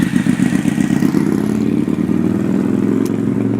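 A 2011 Honda CBR250R motorcycle roars past close by, its engine revving loudly with a rapid, rattling pulse that fades slightly as it goes.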